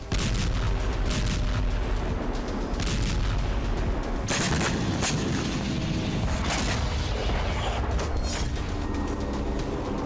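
Continuous barrage of heavy booms and blasts from missile strikes in the Russia-Ukraine war, loud and dense, with repeated sharp impacts cutting through a rumbling roar.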